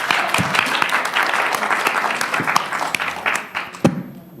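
Student senators clap at a university student government meeting, a thick wash of applause from a room full of people, with a few sharper claps and thumps near the end as it tapers off.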